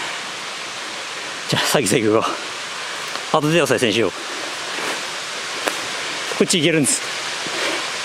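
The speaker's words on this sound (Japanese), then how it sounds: "五色滝だよな。" Goshiki waterfall in the Shirakami mountains of Aomori, a constant broad rush of falling water close by, with a few short stretches of people talking over it.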